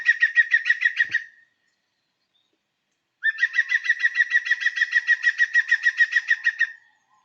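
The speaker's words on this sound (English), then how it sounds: "The green woodpecker's characteristic loud, laughing song is often called a yaffle" A green woodpecker gives its loud laughing yaffle call: a short run of ringing, rapidly repeated notes, a pause of about two seconds, then a longer steady burst of the same notes, clear and alone.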